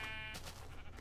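A single short sheep bleat from a modded Minecraft game, clear and close with a wavering tone, alone without talk.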